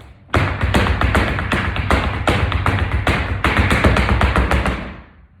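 Flamenco footwork: rapid, steady tapping of heels, balls and flats on the floor, a dense string of sharp strikes with low thuds beneath, close and loud for about five seconds, then stopping.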